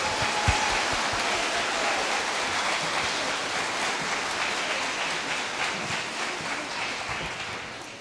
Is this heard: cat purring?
no